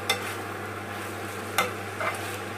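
Cabbage frying and being stirred in a pan for Asian noodles, a steady sizzle with a few sharp scraping stir strokes, close and alone.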